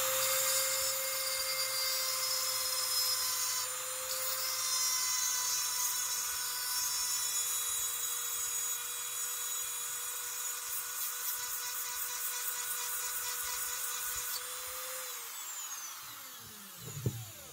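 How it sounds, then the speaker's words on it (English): A Dremel running at full speed with a basic cylindrical bit grinds into a drywall screw, making a steady, high whine that holds for many seconds before winding down near the end. "I've got one fitted up in my Dremel, just a basic cylindrical shaped one. And I've got a drywall screw."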